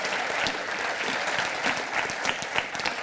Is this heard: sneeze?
no